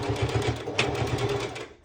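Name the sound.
sewing machine stitching festival top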